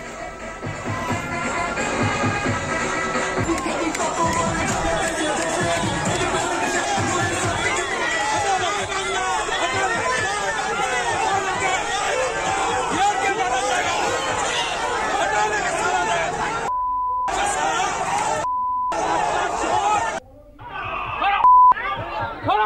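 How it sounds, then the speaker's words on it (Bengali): A dense crowd of Trinamool supporters shouting go-back slogans at a political confrontation, a loud continuous roar of overlapping voices and chatter, cut near the end by bleep tones and brief gaps. "তৃণমূল কর্মীর সমর্থকরা তাকে দেখে কালো পতাকা এবং গো ব্যাক স্লোগান দেন"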